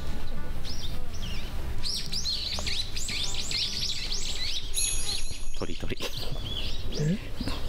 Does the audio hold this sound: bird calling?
yes